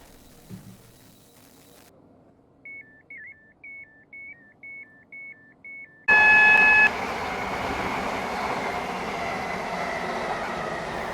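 In a video game, a series of electronic chime tones plays, then a loud rumbling metro train interior takes over, with a steady whirring drone of rolling carriages.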